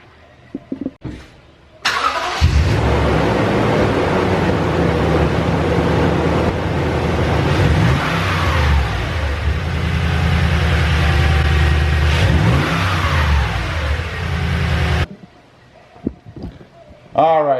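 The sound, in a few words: Toyota Tundra engine cold start revs, TRD cold air intake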